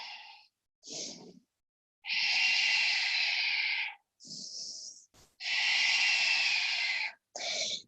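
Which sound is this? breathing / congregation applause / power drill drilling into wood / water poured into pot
breathing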